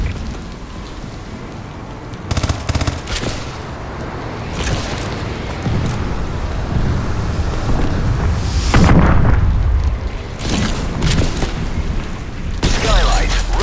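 Heavy booming explosions from a friendly bombing run in a shooter game, several low rumbling blasts spread over the stretch with a steady noisy bed underneath and bursts of game chatter.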